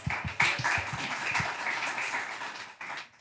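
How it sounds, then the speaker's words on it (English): Audience applause greeting two panel guests, LOVRA and Pascale Volataire, at a live talk event in Berlin: a steady wash of many hands clapping that swells and holds for a few seconds, then dips and picks up again at the end. "Big applause to these two guys."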